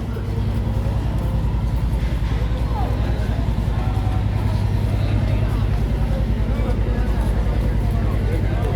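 Busy ambience at Sadarghat launch terminal in Dhaka among many passenger launches, a constant low engine rumble and crowd noise with people talking over it.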